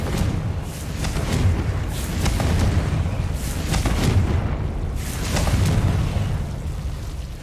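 Repeated Confringo fire-spell blasts from Hogwarts Legacy land one after another in deep booming bursts, loud and close, with no voices between them.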